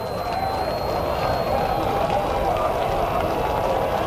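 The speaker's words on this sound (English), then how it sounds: "Listen to the crowd." A dense, roaring crowd at a 2005 NHRA drag race in Brainerd, Minnesota cheers loudly and continuously after Tony Schumacher's record Top Fuel run, a steady wash of noise without breaks.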